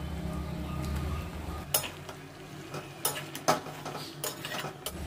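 A metal spoon scraping and knocking against a pan while stirring prawns with yardlong beans in a Bengali home kitchen, a low steady hum first, then a handful of sharp clanks at irregular intervals, close and fairly quiet.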